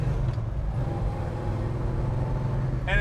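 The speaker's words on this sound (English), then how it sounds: "Let's go for a ride. Got big block power, 6-speed shifter, bullet hood." A 1967 Chevrolet Chevelle with a big block engine and 6-speed shifter drives along, its steady low engine rumble and road drone continuous and close, with a brief higher tone near the end.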